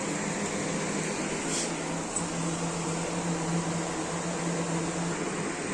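A kitchen mixer grinder runs steadily while blending coriander chutney, giving a continuous, even motor whir with a low hum that holds for the whole stretch, with no voices over it.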